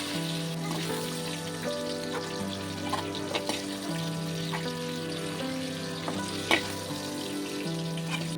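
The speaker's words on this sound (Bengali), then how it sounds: "দেখো আমার পটলগুলো আর আলুগুলো লালচে হয়ে গেছে, আমার লাল লাল করে ভাজা হয়ে গেছে।" Pointed gourd and potatoes fry in mustard oil in a pan, a soft steady sizzle with occasional light clinks and stirring sounds, fairly quiet and close with no talking.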